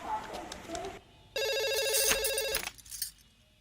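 A telephone rings once in a burst of rapid electronic trilling, clear and fairly close, with people talking quietly before it.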